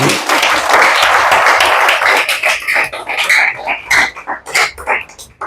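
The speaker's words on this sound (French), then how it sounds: "Est-ce que tu peux acclamer pour Jésus?" A church congregation at a worship service applauds and cheers for Jesus, a dense wash of clapping and shouts that thins into scattered individual claps and cries toward the end.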